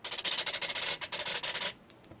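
An RC servo moves the spoilers on a HobbyKing model aircraft, giving a close, raspy buzzing whir in short rapid pulses for under two seconds before stopping abruptly.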